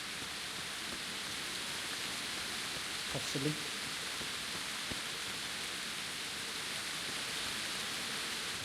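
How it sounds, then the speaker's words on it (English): Heavy rain pours steadily in the medieval game Kingdom Come: Deliverance, a constant hiss of falling water, while someone speaks briefly. "There's lots and lots of rain falling, isn't it?"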